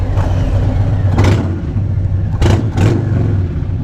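Harley-Davidson Low Rider S motorcycle engine idling with a deep, steady rumble, punctuated by three short throttle blips that swell and fade, close and loud throughout.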